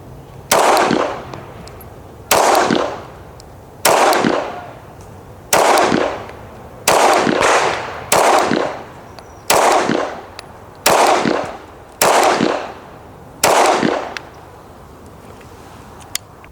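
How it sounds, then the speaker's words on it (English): Girsan 2311 Match X pistol firing at a steel target: ten loud, sharp shots spaced about 1.5 seconds apart, each with a brief ringing tail, and no talking. "Now I know damn well y'all see how flat this thing is shooting."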